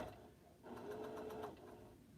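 A sewing machine stitching a quilt seam hums faintly with a quick mechanical whir that swells briefly in the middle, quiet and close with no talk.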